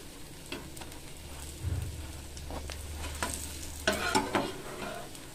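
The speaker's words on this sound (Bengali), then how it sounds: "আমি দুই পিঠ খুব সুন্দরভাবে ভেজে নেব।" Chal kumro (ash gourd) leaf fritters frying in a pan, a soft continuous sizzle with scattered crackles and a few louder bursts of spatter and scraping as they are turned.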